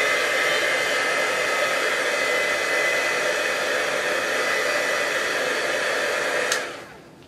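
A heat gun blows steadily for embossing on a metal surface, a loud continuous broadband rush of air lasting about six and a half seconds before shutting off and trailing away, with no voices.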